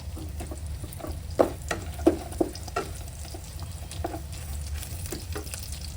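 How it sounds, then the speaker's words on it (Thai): Sugar being stir-fried in a pan until it melts, for a home-cooked cabbage stir-fry: a steady low sizzle with a few louder scraping clacks of the spatula against the pan, no talking. "ผัดให้น้ำตาลละลาย"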